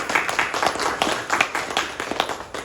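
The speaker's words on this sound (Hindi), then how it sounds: "लिए एक ताली बजा दीजिए।" A seminar audience claps together, a fairly close and lively burst of many individual hand claps with uneven peaks that carries on for a couple of seconds without talk.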